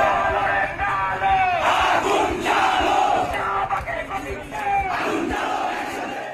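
Thousands of Dhaka University students marching through the street at night, a dense crowd chanting and shouting slogans in rhythmic bursts, loud and close throughout.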